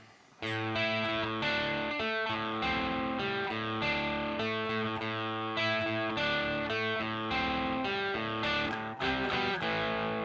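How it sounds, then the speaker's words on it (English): A distorted electric guitar plays the repeating opening riff of a song, loud and steady, with sustained chords and sharp accents, no voices. "this is the main riff that we're going to have a look at today"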